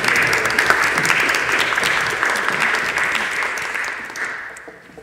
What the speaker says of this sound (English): Let us share in applause